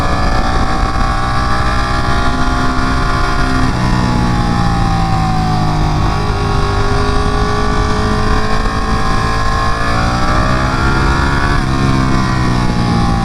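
Ducati Panigale 959 sport motorcycle engine roaring loudly and continuously while being ridden, pitch rising and dipping with throttle changes and gear shifts, with wind rush throughout and no talk.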